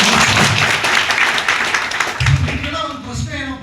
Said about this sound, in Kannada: ಸೊ ನಿಮಗೋಸ್ಕರ ಒಂದ್ಸಲ ಜೋರಾಗಿ ಚಪ್ಪಾಳೆ